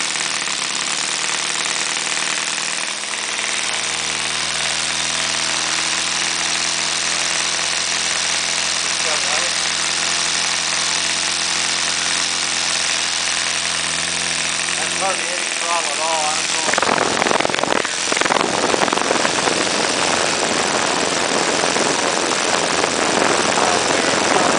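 A Saito 300 twin model aircraft engine with C&H ignition runs loudly and steadily at about 1600–1700 rpm, then its pitch and roar rise sharply as the throttle opens, continuing close and loud to the end.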